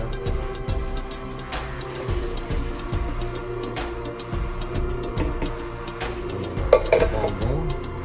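Carrot and orange juice is poured into a container, a steady close liquid stream with faint clinks from the container, alongside a constant mechanical hum.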